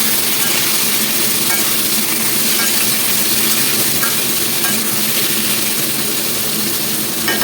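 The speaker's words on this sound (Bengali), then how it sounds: "এ দেখো কুমড়োটা ভাজা ভাজা হয়ে গেছে" Pumpkin pieces frying in a pan for a pumpkin and Malabar spinach curry, giving a steady, loud broadband sizzle that holds evenly for the whole stretch with no talking.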